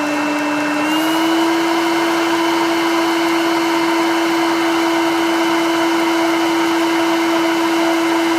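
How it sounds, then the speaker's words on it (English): A coffee roaster runs its cooling cycle without heat, a fan blowing air through the beans fast for a loud, steady whoosh with a constant hum that steps up slightly in pitch after a second. "this machine will now, it's not heating, it's just blowing air through pretty fast to cool it down very fast"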